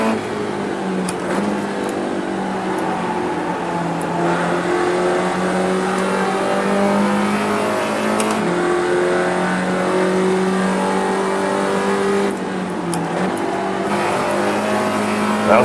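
A Spec Racer Ford race car engine at Laguna Seca in iRacing drones loudly and continuously, its pitch rising and falling through gear changes and corners, with no talking over it.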